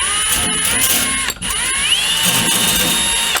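A power drill runs in reverse, spinning a rubber grommet jammed onto a bolt, giving a loud close whine whose pitch dips and then sweeps back up, with rattling mechanical noise beneath.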